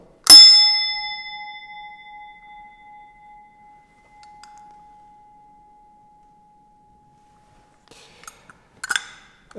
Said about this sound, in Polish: zaczniemy tak jak zawsze, czyli dzwonkiem cieszyńskiego tramwaju